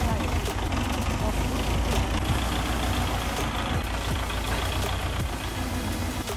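A steady, low rumbling tractor engine idling continuously at close range, with a slight knocking texture and no breaks.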